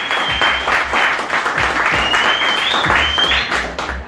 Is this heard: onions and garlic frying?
no